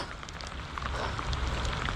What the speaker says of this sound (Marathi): एक नंबर मौसम झाला पाऊस एकदम शांत पडतंय